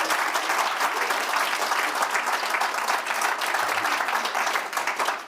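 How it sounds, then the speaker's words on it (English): An audience at the Schwab Foundation awards ceremony breaks into a full, sustained round of applause for an awardee, dense many-handed clapping that holds steady before tapering off at the end. "Could we please give a big round of applause to Valmir?"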